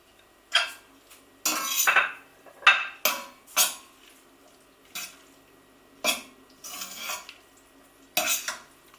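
A pasta fork clinks and scrapes in a bowl, tossing spaghetti with raw tomato sauce, garlic and feta, in short separate bursts of metallic clatter and stirring between quiet gaps.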